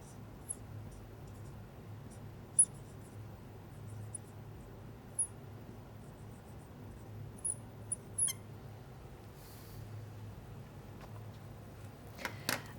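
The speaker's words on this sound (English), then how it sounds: "Write that a little bit smaller." A pen scratches out physics equations on paper, faint and close, with soft continuous strokes and a few sharper taps and ticks scattered throughout.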